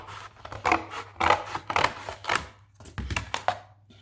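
A hand saw cuts through the ends of a wooden pizza paddle in quick, uneven rasping strokes, close and fairly quiet, with a short pause before the final few strokes.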